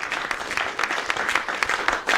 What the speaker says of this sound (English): give a round of applause for Destiny and everybody else who showed up